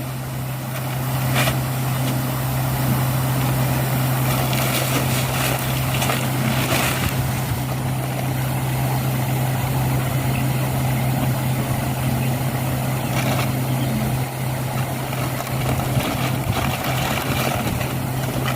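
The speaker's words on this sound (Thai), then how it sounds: "อ่าฟีดเริ่มทำงานแล้วครับ" An automatic feeder motor runs at a shrimp pond, giving a loud, steady mechanical drone with a strong low hum that holds unbroken for the whole stretch, with no one talking.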